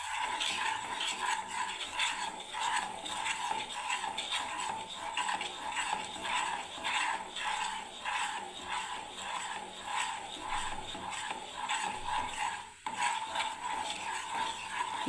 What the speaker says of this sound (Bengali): আঁচ একদম কম করে সমানেই নাড়তে হবে।